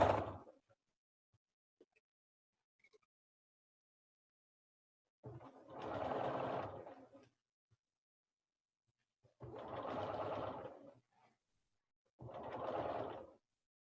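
A sewing machine fitted with a quarter-inch foot sews binding onto a quilt in three short, separate runs of about two seconds each, with near silence between them.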